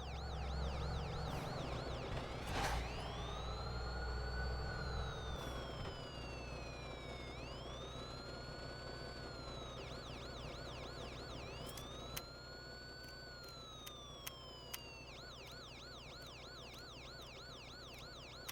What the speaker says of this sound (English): I was being chased by the cops when I finished the last race. That's why you can still hear the sirens.